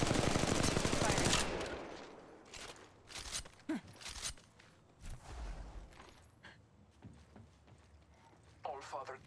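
Gunfire from Apex Legends Mobile: a dense rattle of rapid shots opens loudly, then scattered sharp cracks and thuds follow more faintly while a voice talks over them.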